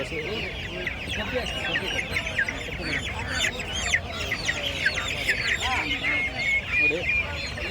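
Karki country chickens crowd a busy poultry market, clucking and squawking continuously with overlapping calls, some close and loud, others fainter, amid general market chatter.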